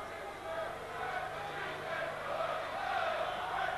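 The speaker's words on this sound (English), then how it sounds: "Small but vociferous crowd from Wycombe" A small but vociferous crowd of Wycombe football supporters chants and roars in a stadium, a continuous, fairly distant wash of voices.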